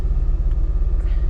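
A Suzuki Alto swapped to a 660cc engine idles right after a cold start, its low, steady rumble close and loud with a regular pulsing beat and no talk over it.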